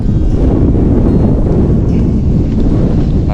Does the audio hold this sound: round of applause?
no